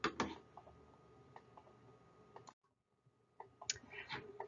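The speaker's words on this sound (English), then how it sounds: "I'm going to click what I want." Computer mouse clicks while navigating medical ordering software, a series of sharp, close, quiet clicks in an irregular rhythm with a brief silent gap, and no speech.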